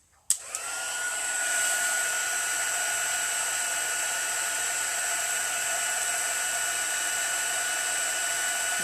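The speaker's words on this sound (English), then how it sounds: "A little more heat embossing." A heat gun used for heat embossing powder on a handmade card blows steadily after a click and brief start-up, a continuous whirring hiss that stays at a constant level throughout with no talking.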